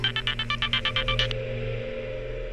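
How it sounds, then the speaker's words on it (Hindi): A mobile phone ringtone plays a quick run of pulsing electronic tones over a low steady hum, then stops abruptly partway through. "1 मिनट, सुदेश का फोन है।"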